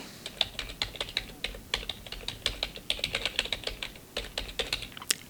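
Soft, close-miked typing on a computer keyboard, with quick irregular clusters of light key clicks in a quiet room and no talking.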